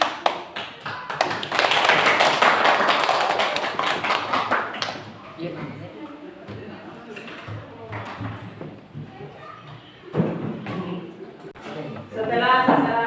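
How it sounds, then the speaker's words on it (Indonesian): Classroom applause for a student discussion group, a burst of many hands clapping for several seconds that tapers off, followed by scattered claps with people talking nearby. "tepuk tangan untuk kelompok 1"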